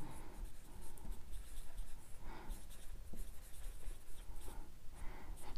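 A pen scratches across paper in short, quiet, repeated strokes as a leave application is handwritten, a steady soft scribbling with brief pauses.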